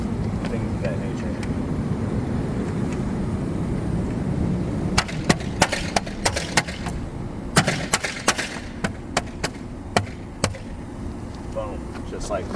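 A Tesla aero wheel cover is pressed onto the wheel, producing a series of sharp plastic clicks and snaps, about a dozen irregular cracks close by over low outdoor background noise, with someone talking early on.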